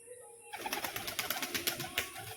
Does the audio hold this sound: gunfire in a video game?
no